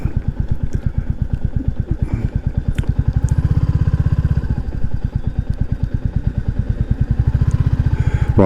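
A Royal Enfield Classic 350 single-cylinder motorcycle on the move, its exhaust thumping in a fast, steady pulse that swells as the throttle opens, recorded close and loud with no talking.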